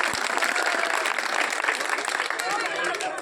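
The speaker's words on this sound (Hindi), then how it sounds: "तो जोरदार ताली बजाए, शानदार" Crowd clapping at a political rally welcoming candidate Santosh Meghwal in a village: steady, dense applause filling the whole stretch, fairly loud and continuous, with voices mixed faintly underneath.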